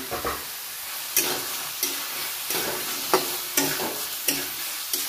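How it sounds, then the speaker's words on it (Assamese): Potatoes fry with spices in a pan, a continuous close sizzle broken by regular scraping stirs about every half second to second. "মছলাৰ লগত আলুখিনি ধুনীয়াকৈ ভাজি হৈ গৈছে"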